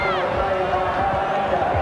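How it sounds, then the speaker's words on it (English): A stadium crowd roars steadily at a 1991 rugby league test between New Zealand and Australia, a dense, sustained wash of noise with a commentator talking over it. "And the crowd roars here as Australia takes an early break."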